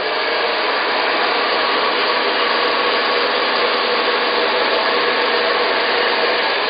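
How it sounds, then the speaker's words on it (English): A steady, loud blowing whoosh with a constant motor whir, like a hair dryer running continuously at close range. "Then pick your hairdryer up."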